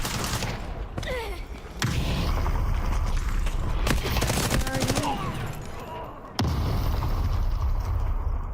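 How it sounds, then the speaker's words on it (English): Video game combat with a grenade blast and heavy bursts of automatic gunfire, loud and dense throughout with brief dips, while a voice shouts over the chaos. "Grenade!"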